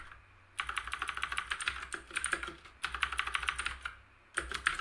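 Rapid keyboard typing in bursts of clicking keystrokes, close and fairly quiet, with short pauses between runs.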